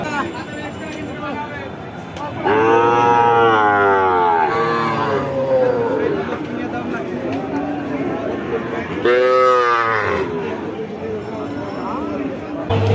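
Cattle at a livestock market in Jashore, Bangladesh, give drawn-out, wavering moos, loud and close, over a steady murmur of crowd chatter and voices.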